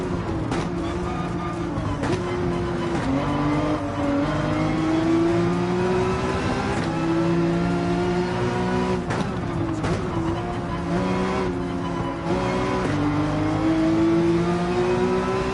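A race car in Gran Turismo 7 screams at full throttle, its engine note loud and steady and climbing through the revs, with brief dips at gear changes over about fifteen seconds and no talk.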